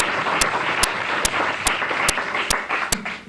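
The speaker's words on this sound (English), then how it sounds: "Let's have a round of applause for them, please" A studio audience at a televised high school quiz bowl applauds the production staff, a steady crowd clapping with a few louder close claps standing out at regular intervals.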